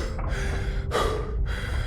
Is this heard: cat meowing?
no